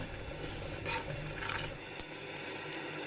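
Mustard seeds dry-roasting in a pan give off sparse, quiet crackling pops, mostly scattered in the second half over a low background hiss.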